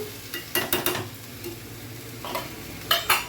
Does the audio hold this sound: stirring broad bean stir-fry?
yes